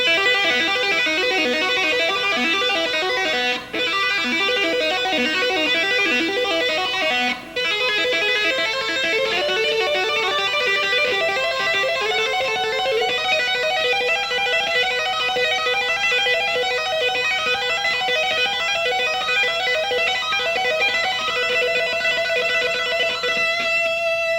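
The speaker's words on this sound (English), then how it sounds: "So maybe the entire lick on the second string would sound like this." A clean electric guitar plays a sustained melodic lick with ringing notes, steady and fairly loud, with no talking.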